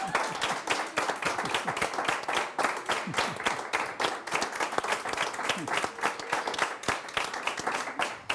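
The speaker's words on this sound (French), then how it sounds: "Il y a une foule qui est là." Steady applause from a crowd at a live webinar venue, dense and continuous with sharp individual claps close to the microphone, lasting throughout.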